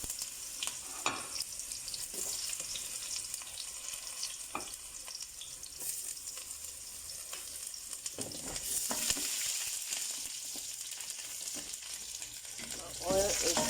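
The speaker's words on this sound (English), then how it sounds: "I'm going to add in our onion to the hot oil and let this cook down till it's softened." Onion cooking down in piping hot oil: a steady, even sizzle and crackle throughout, with occasional stirring clicks and a brief louder surge near the end.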